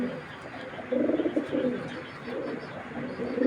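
Racing pigeons, including blue checker and pied saddle hens, cooing close by in repeated soft, throaty bursts of rolling calls over a quiet background.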